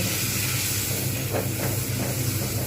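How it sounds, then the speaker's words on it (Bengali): Spice paste frying in a pan with fried onions for a Bengali cauliflower, potato and prawn curry, giving a steady, close hiss and sizzle that runs unbroken with no talking. "এর মধ্যে একটু কষতে হবে মশলাটা কষা হচ্ছে"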